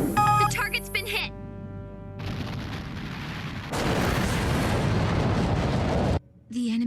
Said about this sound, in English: The enemy ship has been destroyed.